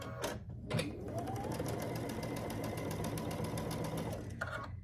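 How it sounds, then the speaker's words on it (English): Sewing machine stitching two quilt blocks together, one steady close whirring run of about four seconds, beginning and ending with brief clunks, no talking. "So I'll sew these 2 blocks together"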